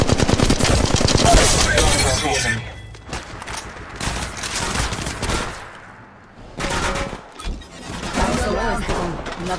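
Rapid automatic gunfire bursts from an Apex Legends firefight, loud and dense with brief pauses between volleys, sharp cracks and thumps layered under game voice lines and effects.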